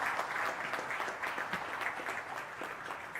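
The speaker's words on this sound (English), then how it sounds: "please put a big round of applause for it" Sustained applause from a conference audience after a keynote by a bank chairman at a national management convention, steady dense clapping filling the room, moderately loud and without speech.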